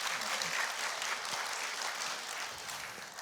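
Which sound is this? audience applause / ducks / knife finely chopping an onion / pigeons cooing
audience applause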